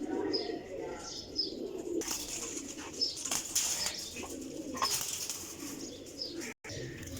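Black pigeons of old bloodlines coo and flap their wings near the recorder, with bursts of fluttering and soft calls mixed among low background sounds.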